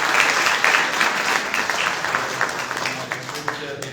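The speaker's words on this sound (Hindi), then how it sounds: "उनके लिए भी बहुत सी तालियां।" Guests at a book launch for Bishop Andrew Francis applaud loudly, with continuous close clapping from a crowd and some voices underneath.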